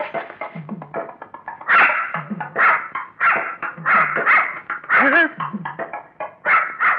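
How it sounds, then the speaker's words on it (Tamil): A dog barks repeatedly in short bursts within a Tamil comedy scene, the barks loud and close, interleaved with shouting voices and some whimpering yips. "இந்த முகமூடி இருக்கிறனால தான் நாய் குலைக்குது"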